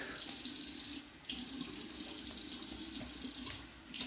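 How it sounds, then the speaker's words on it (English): A bathroom tap runs steadily into a sink as someone rinses off after shaving, a close, continuous rush of water with brief splashy shifts. "Alright, let me rinse off the neck quick."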